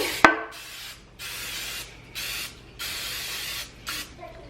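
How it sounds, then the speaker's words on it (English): Cooking spray hisses onto a loaf pan in four or five steady bursts separated by short pauses, close and clear, after a sharp click at the start. "So I make sure to spray all areas of this pan because our loaf will rise as it's cooking."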